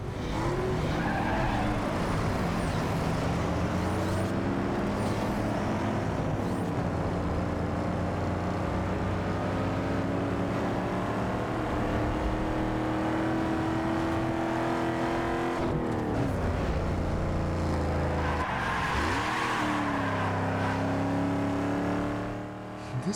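Cars race in the video game Need for Speed Underground 2, with an SUV in the field, giving a continuous loud engine drone with revving pitch changes and tire squeals throughout, without speech.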